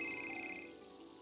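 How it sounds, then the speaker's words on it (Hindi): A telephone ringtone trills steadily, then cuts off partway through, heard indoors at moderate volume with a faint room hum behind it. "देख बेटा, हमारा फोन बज रहा है"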